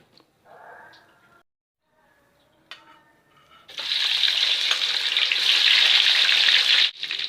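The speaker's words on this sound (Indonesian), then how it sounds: "Oke, selanjutnya kita goreng." Tofu drops into hot oil and breaks into a loud, steady sizzle that fills the second half, preceded by quieter clinks and stirring noises in the kitchen; no one speaks.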